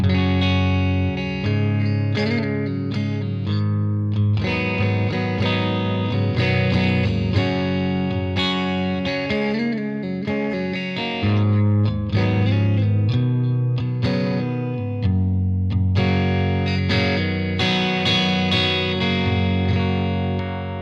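Electric guitar on the middle pickup position, both pickups, through a Tonex amp modeler plays a long run of strummed chords and picked notes, warm and full with a light effect sheen, continuous and unaccompanied.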